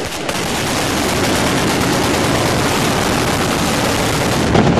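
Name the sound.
rebels firing guns at buildings in Tripoli, Libya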